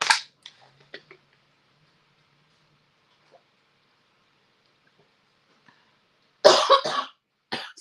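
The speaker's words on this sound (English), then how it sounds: "I've been trying to get over this cough." A few harsh coughs burst out near the end after a long quiet stretch with faint clicks, and one sharp cough sounds right at the start.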